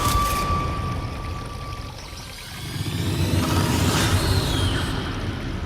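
A waterfall stream in a forest rushes as a steady, full wash of flowing water, close and fairly loud, dipping briefly before swelling again, with no talking.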